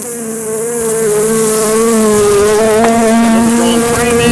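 Stirred-up honeybees at an open hive during Demaree swarm control make a loud, dense buzz up close that swells and holds steady, with no voices.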